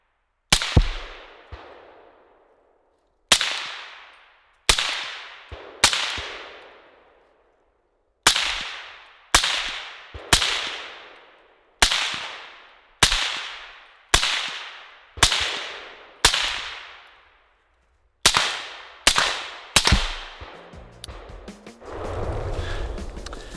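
Suppressed rifle or pistol shots with subsonic ammunition crack one at a time at an outdoor range, about fifteen sharp reports with quick decaying tails, spaced irregularly with some quick doubles, ending in faint rustling.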